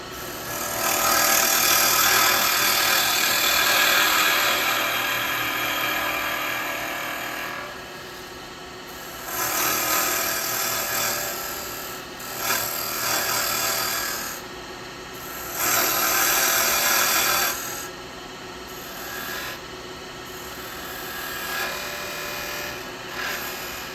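A woodturning lathe spins a yew workpiece while a tool cuts a tenon, giving bursts of hissing, scraping cuts separated by quieter stretches of the humming lathe, close and fairly loud, with no talk.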